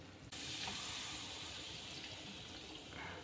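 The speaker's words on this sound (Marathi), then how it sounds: "चला आता मी घेते पाणी टाकून।" Steady broadband hiss and rushing of water hitting a hot pan of fried egg-masala spices, starting abruptly and continuing evenly, close by with no talking.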